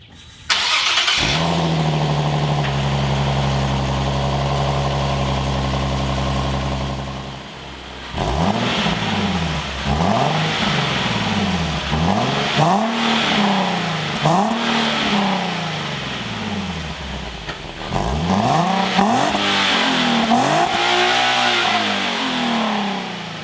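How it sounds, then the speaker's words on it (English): A Nissan Z car engine starts with a sharp rise, settles into a steady 1500 RPM cold-start high idle, then revs repeatedly in rising and falling sweeps, close and loud. "So this right here is a 1500 RPM cold start, and even on the outside, it's not that loud."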